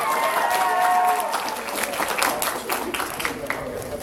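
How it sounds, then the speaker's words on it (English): An audience at the Florida Anime Experience 2013 closing ceremony breaks into hearty applause and some cheering, loud at first and then gradually thinning out over a few seconds. "Give him a round of applause"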